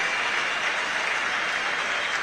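Steady, broad applause from a large rugby crowd at the Northampton Saints against Barbarian F.C. game, a continuous wash of clapping at even loudness from start to finish.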